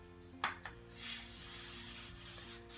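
A short hiss of spray lubricant is aimed into the back wheel bearing of a Stokke Trailz stroller, a few quick bursts and then a steadier spray alongside faint mechanical handling noises.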